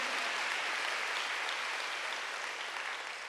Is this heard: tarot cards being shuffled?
no